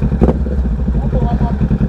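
A 2022 Kawasaki Ninja 650 engine runs close and loud with a steady throbbing idle and a brief rev at the start, as people talk over it.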